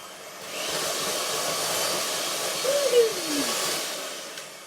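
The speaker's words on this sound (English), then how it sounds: "I'm going to risk giving this a quick blast with the mixer because I'm impatient." An electric mixer runs in a home kitchen, whirring steadily through custard biscuit dough in a short blast, with a brief pitch dip as the load changes; close, moderately loud, no talk.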